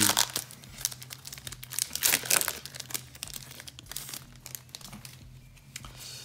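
Pokémon 25th anniversary Celebrations booster packs being torn open by hand, loud close crinkling and rips of foil wrappers in uneven bursts, strongest early and easing into softer rustling later, with no talk.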